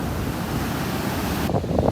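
Wind and breaking surf at Ponte Vedra Beach in a northeast wind of 15 to 20, a steady loud wash of waves with rough wind buffeting on the microphone throughout.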